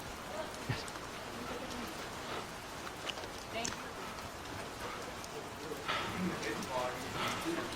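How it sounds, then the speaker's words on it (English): Rain falling outdoors at a long-range sniper shooting challenge, a steady soft patter of drops on surfaces with occasional sharper taps, continuous and moderately loud, with people talking nearby. "Who ordered the rain?"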